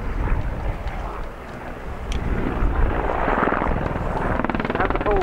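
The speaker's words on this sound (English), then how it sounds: "this extremely rugged, extremely capable battlefield helicopter with a very, very distinctive profile to it" A rugged military battlefield helicopter with a distinctive profile flies past at the RIAT 2022 airshow, its loud rotor thrum and engine roar steady and close, swelling slightly, with a faint voice mixed in.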